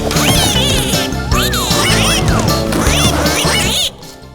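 Cartoon ducklings quack over and over in a bright animated kids' show, their loud nasal calls rising and falling over busy music and sound effects before everything cuts off near the end.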